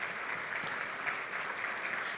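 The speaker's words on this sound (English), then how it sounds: "Big applause for Eric." Sustained applause from an audience at a live-streamed event, a steady dense wash of clapping holding level throughout with no voices standing out.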